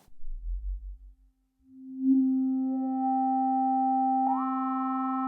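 A Minimoog Model D and a Voyager with filter resonance turned up: a few low thumps give way to a pure, steady tone that swells in, then gains a sweeping, whistling higher overtone, clean and alone.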